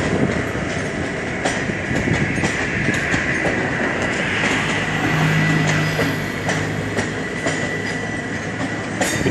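A Nagercoil–Mumbai express train hauled by a WDM3D diesel locomotive runs past: a loud, steady rolling roar with repeated clickety-clack of wheels over rail joints and a low engine hum, no voices.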